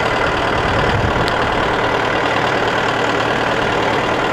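An 85 horsepower tractor engine idles close by, a loud, steady mechanical rumble with a faint knocking pulse and no voices over it.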